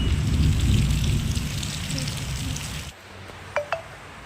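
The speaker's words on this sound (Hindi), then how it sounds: "इतनी तेज़ बारिश हो रही है" Heavy rain pours down steadily with gusting wind for a few seconds, then the roar drops away abruptly, leaving lighter dripping and a couple of short sharp knocks.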